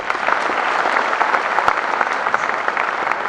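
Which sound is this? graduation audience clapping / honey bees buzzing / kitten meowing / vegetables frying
graduation audience clapping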